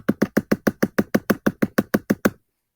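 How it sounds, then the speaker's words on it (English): A pencil taps dots onto paper: about fourteen quick, even, close knocks in a steady rhythm, then silence, with no talking. "So on your paper, you will be putting little dots."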